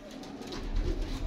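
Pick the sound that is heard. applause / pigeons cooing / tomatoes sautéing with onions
pigeons cooing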